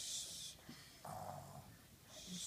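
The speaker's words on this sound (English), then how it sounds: "Is he snoring?" Someone asleep snores softly, with a raspy drawn-in breath followed by a lower rumbling exhale, fairly faint and close, set against a steady background hiss.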